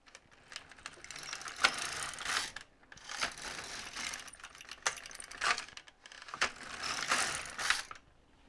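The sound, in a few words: LK150 knitting machine knitting rows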